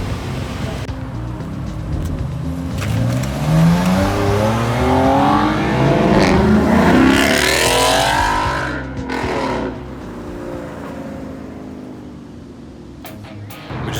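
A Rolls Royce Dawn engine revs up loudly, the pitch climbing and swelling, then easing off as the motor settles to a lower hum.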